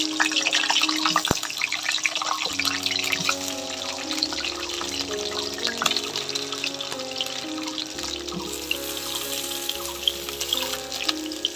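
Potato pieces fry in hot mustard oil in a wok over a village wood fire, a steady crackling sizzle running the whole time beneath soft background music.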